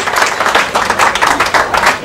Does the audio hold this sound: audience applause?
yes